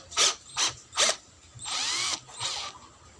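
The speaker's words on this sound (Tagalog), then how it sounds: "So, kung magtanggal naman tayo ng screw, guys, baliktarin natin. Pindutin natin to. Yung kaniyang reverse." A DCA cordless hammer drill running in reverse to back out a screw gives three short, close whirring bursts, then a longer steady spin and one more brief run, with no talking.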